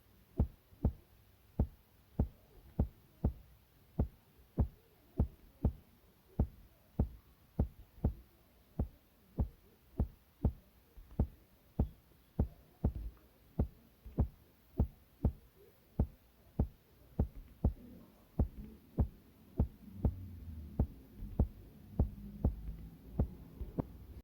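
Layered afro kick drum section built on BandLab, steady thumping kicks repeating about twice a second for the whole stretch, with a low warm bass swell filling in toward the end.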